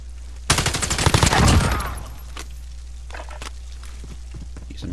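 Glock pistol fire in a video game, a quick burst of rapid close shots lasting about a second and a half, followed by fainter scattered clicks and thumps.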